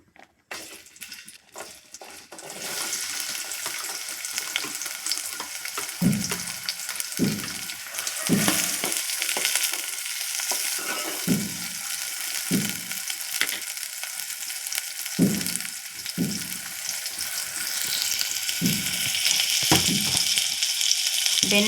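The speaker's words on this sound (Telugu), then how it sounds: "దీంట్లో పొడువుగా తరిగిన ఉల్లిపాయలు వేస్తున్నానండి." Long-sliced onions drop into hot oil in a pan and fry with a loud, continuous sizzle that swells and holds steady, punctuated by periodic stirring scrapes, close up.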